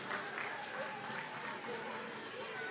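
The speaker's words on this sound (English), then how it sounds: "Let's hear a big round of applause as they select your Stone Age champion" Audience applause fills a cattle show arena at a county free fair during a Stone Age showmanship award, steady broad clapping with crowd noise and a voice talking faintly underneath.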